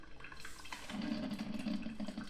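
Water running and dripping inside a Mandine MCM125T-16 drip coffee maker, a close, continuous trickle and gurgle that grows slightly fuller partway through.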